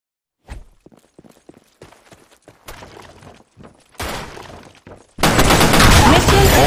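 Gunfire in a first-person shooter game: scattered single shots and short bursts build up, ending in a loud sustained volley of heavy automatic fire.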